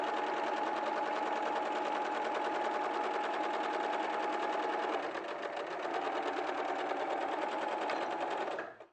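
A sewing machine stitches fabric at a steady, fast rhythm, running continuously up close with a brief slowdown midway before stopping near the end.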